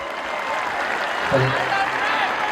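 Crowd applause breaks out at a Banjara community rally and march in Beed: steady, dense clapping from many people that holds at an even level for the whole stretch, with some voices mixed into the noise.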